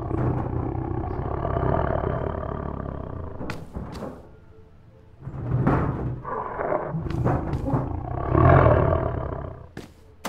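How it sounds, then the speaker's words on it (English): A tiger roars in the video game Dr Langeskov, The Tiger, and The Terribly Cursed Emerald: several deep, growling roars in bursts, separated by a short lull and punctuated by sharp, sudden thuds. "There's an actual tiger in this room, an actual tiger."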